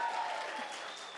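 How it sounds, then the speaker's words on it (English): Short burst of audience applause at a symposium, moderately loud and steady, with a faint voice briefly audible underneath. "One last round of applause."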